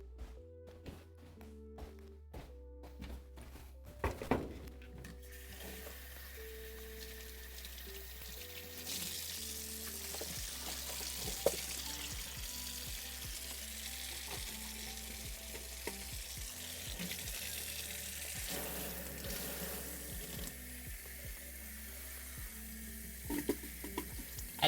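Lettuce is rinsed under cold running tap water, a steady splashing rush that follows a few clinks and knocks at the start and continues unbroken, moderately loud.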